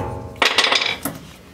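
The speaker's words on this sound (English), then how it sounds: "the front eyelet comes out by tapping it with a hammer" A hammer taps the front leaf spring eyelet out on a Mazda RX3 rear end, a quick cluster of sharp metallic clinks followed by one more strike, close and loud.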